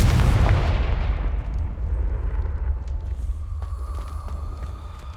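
A Confringo fire spell from the video game Hogwarts Legacy bursts as a loud, close explosive boom that hits at once, then fades into a long, deep rumbling tail with faint crackling debris, and no speech.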